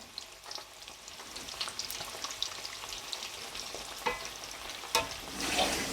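Keema-stuffed bitter gourds fry over low heat in a kadhai pan, giving a soft, steady sizzle with occasional louder pops and crackles close by, and no voices.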